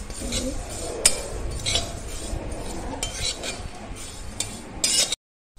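Whole spices for a Malvani masala dry-roast in a pan over a low flame. A spoon scrapes and clinks against the metal, and a soft crackle runs under it, ending abruptly in silence.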